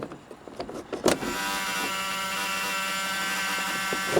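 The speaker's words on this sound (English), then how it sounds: "Buzzer is sounding, letting me know that that is working properly" A school bus emergency exit buzzer drones steadily after a few clicks and clunks as the rear roof hatch opens, close and fairly loud.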